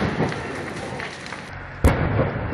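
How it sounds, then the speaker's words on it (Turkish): A sudden loud blast rings out from a burning stable on Büyükada, Istanbul, cutting sharply through the low crackling rumble of the fire partway through. "Patlamalarsa yürekleri ağza getirdi."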